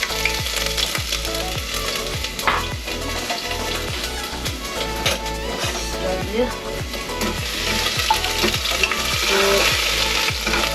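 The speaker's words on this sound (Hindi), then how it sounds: "अच्छा से इसको फ्राई करना है।" Ginger garlic paste fries in a pan for homemade chicken curry, a loud steady sizzle with a spoon scraping and stirring in repeated rhythmic strokes, close up, with a brief spoken word.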